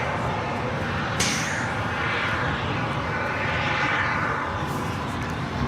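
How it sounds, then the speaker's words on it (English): A Sun Country Airlines Boeing 737-800 arriving at LAX from Minneapolis gives a steady, broadband jet roar that holds loud throughout, with a faint whine rising and sweeping midway. "Sun Country Airlines Flight 427 coming in from Minneapolis. It's a 737-800."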